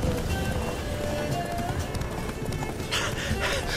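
Roach, a horse in The Witcher 3 video game, gallops with a steady clip-clop of hooves under continuous game ambience and a voice speaking over it.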